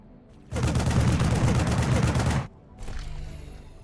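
Rapid automatic gunfire in the space game X4: Foundations, similar to StarCraft Marine guns, rattles loudly in one sustained two-second burst, followed by a quieter stretch of fainter firing.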